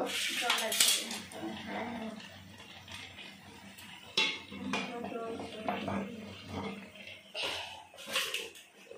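A metal lid lifted off a pot of boiled taro leaves in a home kitchen, with a few sharp clanks and scrapes of cookware amid quieter handling noise, fairly close and moderately soft.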